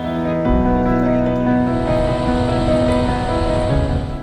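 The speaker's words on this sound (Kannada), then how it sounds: "ಜಲಾಶಯದ ನಾಲ್ಕು ಕ್ರೆಸ್ಟ್ ಗೇಟ್ಗಳನ್ನು ತೆರೆದಾಗ ಭೋರ್ಗರೆದು ಧುಮ್ಮಿಕ್ಕಿದ್ದ ಭದ್ರೆ ಹಾಲ್ನೊರೆಯ ಹೊದ್ದು ನದಿಗೆ ಹರಿದಳು" Water roaring out through four opened crest gates of the Bhadra reservoir at Lakkavalli, a loud, continuous rushing torrent with no break.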